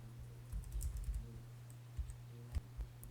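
Close clicks of typing on a computer keyboard, a short burst of keystrokes with a few separate taps after it, heard over a low steady hum with no talk.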